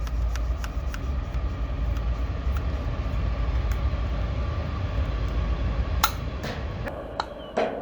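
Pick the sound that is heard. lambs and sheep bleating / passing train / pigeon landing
passing train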